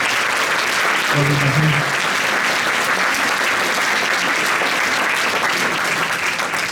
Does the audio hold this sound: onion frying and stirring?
no